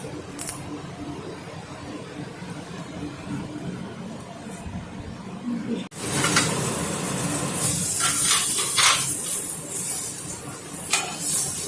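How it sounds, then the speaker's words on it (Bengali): Quiet background gives way to a sudden loud, sustained hissing sizzle as singhi catfish hit hot oil in a wok, close and continuous with crackling spikes. "কড়াইয়ের তেলটা হয়ে গেছে, এবার শিঙি মাছগুলো একটু ভেজে নিচ্ছি।"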